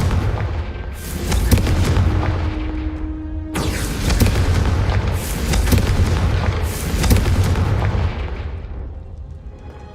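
Confringo spell blasts in the Hogwarts Legacy video game go off as four loud, booming explosions at uneven intervals, each with a sharp crack and a long rumbling decay.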